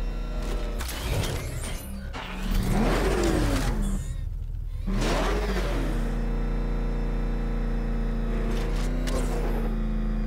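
A car engine in Batman: Arkham Knight revs up and whirs in rising and falling sweeps, then settles into a steady mechanical drone, loud and close, with brief talk early on.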